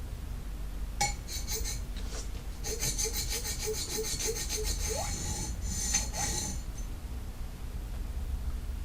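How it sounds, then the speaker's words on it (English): Groomer shears are stroked several times across a 200 grit diamond sharpening stone, producing close, gritty rasping scrapes in a quick series, with small metallic clinks between strokes. "This is 200 grit diamond. I'm just going to do a few strokes on it."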